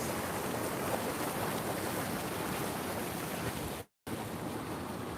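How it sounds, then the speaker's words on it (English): Volcanic hot springs bubble and steam at Unzen Jigoku in Nagasaki, a continuous rushing, hissing roar at a steady level. It briefly cuts out near the end, then resumes, with no voices. "Bubbling hot springs."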